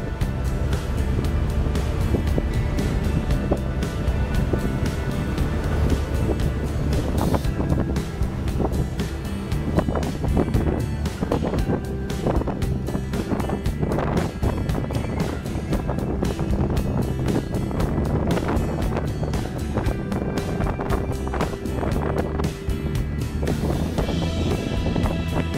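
Heavy wind buffeting and a low engine drone fill a ferry crossing, dense and continuous with a churning water wash underneath, loud throughout and no clear speech.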